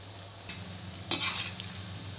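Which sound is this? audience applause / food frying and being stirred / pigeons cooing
food frying and being stirred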